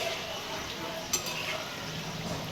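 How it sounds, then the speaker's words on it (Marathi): Pieces of shankarpali dough fry in hot oil over a medium gas flame, a steady soft sizzle and bubble throughout, close up, with one brief clink partway through. "एकदम मध्यम मीडियम गॅसवर आपल्याला तळून घ्यायचे"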